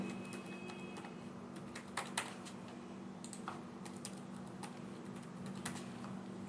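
Sparse keystrokes on a computer keyboard while entering a root password during an Oracle Linux 8 installation, faint clicks over a steady electronic hum.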